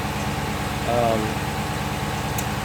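A 2016 Dodge Charger Scat Pack engine with a cold air intake idles steadily with a low, even rumble and slight hiss, close by, and a faint voice briefly comes through over the running motor.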